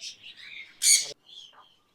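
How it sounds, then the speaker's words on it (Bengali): A racing pigeon calls from a loft, a soft warbling note followed by one loud, harsh squawk and a brief trailing coo, close and alone. "এইগুলো হচ্ছে সবগুলো রেসার কবুতর"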